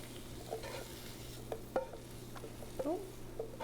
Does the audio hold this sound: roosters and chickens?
no